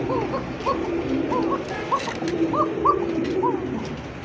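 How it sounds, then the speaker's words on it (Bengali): A kokka pigeon coos in a series of repeated rounded calls, fairly close and clear over a low background murmur, with no speech. "মাশাআল্লাহ দেখার মতো একটা ককা, খুব সুন্দর ডাকা ডাকে"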